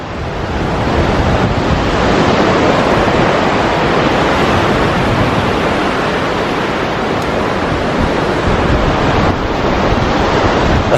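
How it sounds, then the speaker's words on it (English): Sea waves roll in at a beach in Hua Hin, Thailand, a loud, continuous rushing surf mixed with heavy breeze buffeting the microphone, with no voices. "there is a beautiful breeze here. We're just at the Nuraman beach."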